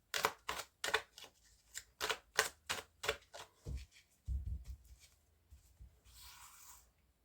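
Tarot cards are shuffled for a nine-card spread in a run of about ten crisp, rhythmic riffles close by, followed by softer shuffling and a faint rustle. No talk is heard.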